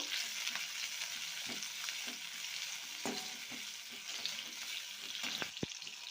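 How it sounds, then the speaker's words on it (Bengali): Onions and red capsicum frying in hot oil for a chicken jhalfrezi, a constant close sizzle broken by repeated stirring scrapes and taps. "এখন দিয়ে দিচ্ছি ওই তেলের মধ্যে পেঁয়াজগুলো, লাল ক্যাপসিকাম ফ্রাই করে তুলে নেব।"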